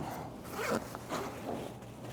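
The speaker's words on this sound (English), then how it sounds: "this is our zipper into the pocket we were just looking in" A zipper on a bag pocket pulled open in a few quick rasping strokes, close and fairly quiet, with no talk.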